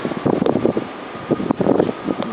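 Strong gusting wind in a Chicago blizzard buffets the microphone, arriving in rough bursts of roar and rustle that rise and drop in uneven waves, close and loud with no voices.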